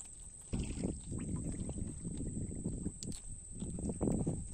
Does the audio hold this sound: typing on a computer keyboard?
no